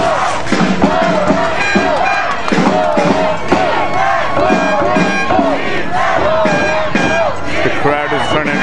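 A loud, roaring crowd cheers at a VMFL championship football game between South Delta and the Coquitlam Raiders in the fourth quarter, sustained shouting and yelling with rhythmic surges throughout.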